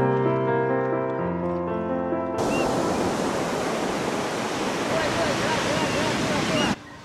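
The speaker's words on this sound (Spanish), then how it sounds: "quisimos ver el río que atraviesa este valle y que lleva el nombre de su ciudad" A river runs through the valley near the town of Mala, a broad, steady rushing roar that follows a few seconds of music and cuts off abruptly near the end.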